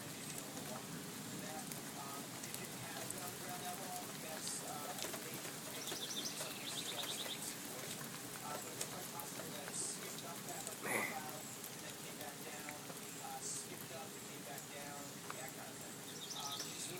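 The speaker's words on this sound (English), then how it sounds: "The rain's starting to pick up." Steady rain falling through trees as a dark storm moves in over East Douglas, a dense continuous hiss with faint bird calls and occasional voices underneath.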